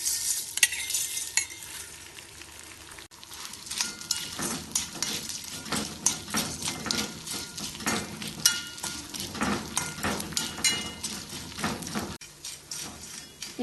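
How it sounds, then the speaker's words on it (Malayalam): Edible gum (gond) fries in hot ghee in a pan, a continuous soft sizzle broken by repeated scraping and stirring of a utensil against the metal and occasional clinks, close up with no voices. "നെയ്യ് ചൂടാവുമ്പോൾ എടുത്തു വെച്ച ഗോന്ത് ഇതിലേക്കിട്ട് വറുത്തെടുക്കാം."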